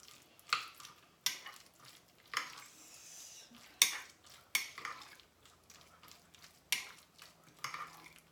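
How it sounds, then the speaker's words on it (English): Spoon stirring egg mayonnaise sandwich filling in a bowl, with a series of sharp scraping clinks against the dish at an irregular rhythm, fairly close and alone with no talk. "now we can mix it. Mix well."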